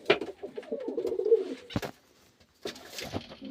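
A pigeon coos in a loft with a brown hen and a black cock, giving two short bursts of low throaty cooing at close range with a brief gap between them.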